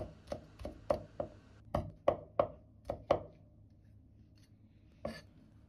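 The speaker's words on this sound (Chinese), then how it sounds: "大蒜幾顆，拍破，然後剁碎就可以" A knife chopping garlic on a board, a quick run of about ten sharp, close chops, then a pause and one final chop.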